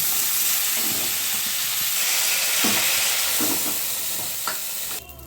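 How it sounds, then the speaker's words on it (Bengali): Chicken pieces sizzle lightly in hot oil in a pan for gondhoraj chicken, a steady close frying hiss with occasional stirring scrapes and clinks, ending with a brief louder rattle. "হালকা করে ভেজে নিচ্ছি"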